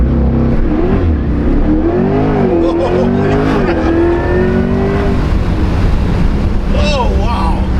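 A C8 Corvette E-Ray launches hard, its engine note sweeping upward through the run under heavy wind buffeting, with excited voices breaking in near the end.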